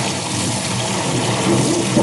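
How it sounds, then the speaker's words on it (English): Tap water runs hard and steady into a sink while things are being washed, a close, loud, continuous gush. "So a bit of water noises for you while we wash these things."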